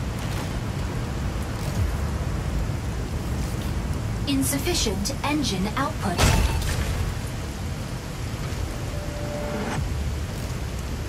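Chlorite pulse storm in the mecha video game Mecha Break, a loud, constant roar of rain and wind with a brief crackling burst in the middle, while a synthetic voice speaks over it.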